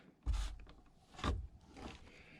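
Quiet mechanical clicks of a ratchet tightening the bolts on a quad battery come in two short bursts, then a softer third.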